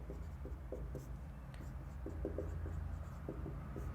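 Marker or chalk writing on a board in a Class 10 geometry lesson on triangles: short scratchy strokes and taps come in small clusters, fairly close, over a steady low room hum with no talking.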